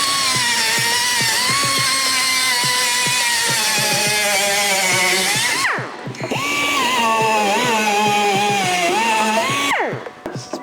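A high-pitched power tool whines close up while cutting off welded fog light brackets, its pitch dipping under load, and it briefly stops and spins back up mid-cut before winding down.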